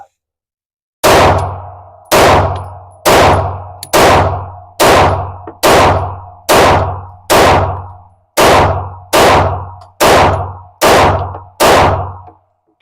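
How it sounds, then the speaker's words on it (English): Taurus GX4 pistol firing Fiocchi Training Dynamics 115 grain ammunition at an outdoor target, thirteen sharp, loud shots in a steady, evenly spaced rhythm, each ringing briefly before the next. "So we're going to see how it likes this Fiocchi Training Dynamics 115 grain ammunition."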